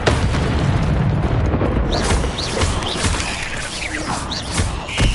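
Spell effects in the Hogwarts Legacy video game: dense, loud magical whooshes, booms and crackling bursts in rapid succession with brief rising whistles, continuous and close.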